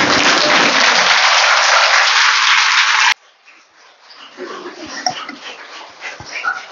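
A seated audience at a mind-power workshop rises for a dense, loud round of clapping that cuts off abruptly after about three seconds, leaving quieter scattered noises.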